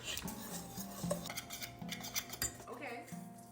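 A metal whisk clinks and scrapes around a bowl while cookie dough is mixed in a home kitchen, light rhythmic tapping and rattling with brief pauses, accompanied by a faint background hum and some tonal noise.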